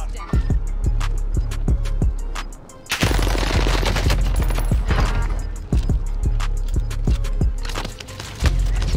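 Rapid gunfire in Warzone on Rebirth Island, with dense bursts of automatic shots and single cracks repeating loudly and close throughout, leaving only a brief lull.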